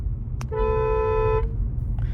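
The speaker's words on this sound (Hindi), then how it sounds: "अंदर आपको बस ये पता चल रहा है हॉर्न बज रहा है" A Maruti Brezza fitted with an original 2024 Hyundai Creta horn honks once for about a second, clear and fairly close, over a low rumbling background.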